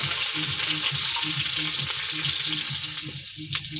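Garlic and onion fry in hot oil with a loud, steady sizzle up close, while a utensil gives faint, regular stirring scrapes underneath.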